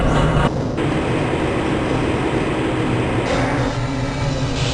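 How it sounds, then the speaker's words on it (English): Steady loud rumble of a monorail tram car riding through the Black Mesa facility in Half-Life: Blue Shift, a continuous dense roar with a brief dip early on and no speech. "This train is inbound from the Area 8 topside dormitories to the Central Transit Hub in Area 9"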